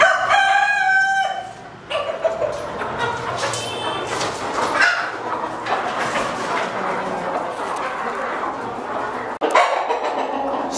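Native country chickens kept in stock, with a rooster crowing loudly and close at the start, then a busy mix of clucking and other fowl calls that continues to the end, a dog barking now and then among them.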